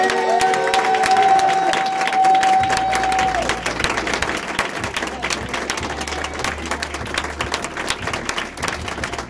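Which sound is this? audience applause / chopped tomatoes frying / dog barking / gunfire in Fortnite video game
audience applause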